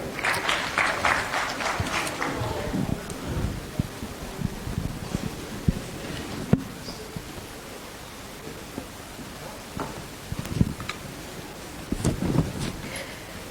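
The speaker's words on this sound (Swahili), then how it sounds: "Wapi makofi yake?" Applause from an audience at an Islamic institute fundraising event greeting an honourable guest, a broad steady clatter of many hands through the first few seconds that thins into scattered claps and a quiet murmuring room.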